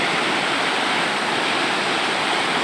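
Water rushing steadily from a river or waterfall, a loud, continuous broadband roar that stays even from start to finish, close by with no other sounds.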